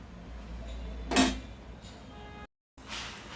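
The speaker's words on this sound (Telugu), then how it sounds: "మూత వేసుకుందామండి" A single metallic clink as a lid is set down on a pot of chicken pulao, followed by quiet kitchen background.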